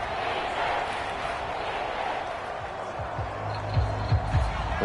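Stadium crowd in Madden NFL 23 roaring steadily at a Giants versus Buccaneers playoff game, a dense wash of cheering that swells near the end with a few sharp thumps.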